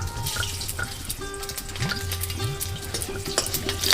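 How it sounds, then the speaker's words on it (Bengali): Half a spoon of cumin seeds and three green chillies hit hot oil left over from frying peanuts, giving a loud, continuous hiss and spatter close by, with no voices. "ওই তেলেই আমি হাফ চামচ মতো ফোড়নে জিরে দিচ্ছি আর দিচ্ছি তিনটে কাঁচা লঙ্কা"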